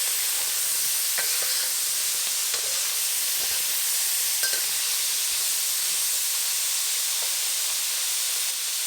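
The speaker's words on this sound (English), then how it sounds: "Add in the chestnuts" Chestnuts go into a pot of pork belly stew, which sizzles with a steady bright hiss like steam, broken by a few faint clicks and taps.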